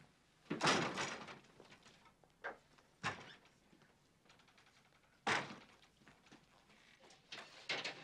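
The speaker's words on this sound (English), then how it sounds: "The door's way too heavy, sir." A heavy school door is shoved and moved in a detention scene. Several loud thuds and scraping bangs come in separate bursts, with quieter shuffling and rattling between them.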